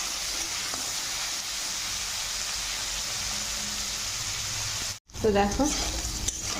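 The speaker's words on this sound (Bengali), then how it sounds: "আলুটা অনেকটাই ভাজা ভাজা হয়ে যাচ্ছে" Potatoes and boiled greens stalks fry with salt in a pan, giving a steady close sizzling hiss for several seconds before someone speaks briefly over it.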